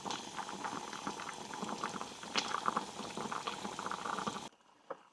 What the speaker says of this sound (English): I'm just going to let that boil for a few minutes